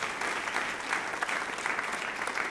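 A church congregation applauding together at a sermon, steady dense clapping from many hands that holds at an even level from start to finish, with no voices rising above it.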